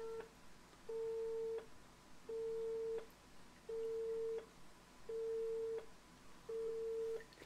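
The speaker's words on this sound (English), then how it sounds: "So it's Morse code. It started repeating." Morse code tone over a telephone line in Firewatch, a faint repeating series of even beeps, each lasting under a second with equal gaps, heard alone.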